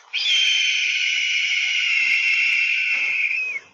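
A single long, loud, piercing high whistle-like eagle call holds steady for over three seconds, then bends down and cuts off abruptly, clear and alone against silence.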